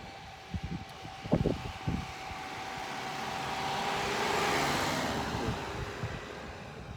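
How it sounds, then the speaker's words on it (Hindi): A vehicle rolls back along a snowy mountain road in Nepal, its engine a steady low drone that swells and fades over several seconds, with a few scattered knocks and thumps near the start. "गाड़ी जो यहाँ से वापस जा रही है।"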